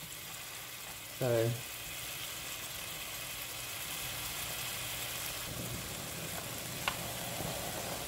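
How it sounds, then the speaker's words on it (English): Ham frying in a pan gives a steady, close sizzling hiss throughout, with someone briefly speaking near the start. "it don't take long to cook the ham"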